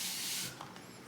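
A spray bottle mists water onto an acrylic paint palette in one short, close, breathy hiss that fades quickly, with no talking.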